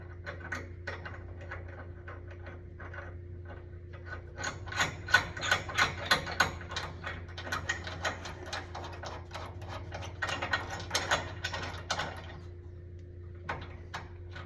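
A ratchet tightens a trailer hitch receiver bolt against the frame of a 2013 Ford F-150 XL, giving bursts of rapid close clicking strokes separated by short pauses, over a constant low electrical hum.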